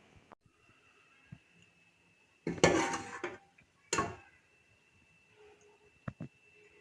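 Cooked dal mash is served out into a dish: two short bursts of a spoon scraping and clinking against a pot, with faint clinks in between and after, close and otherwise quiet.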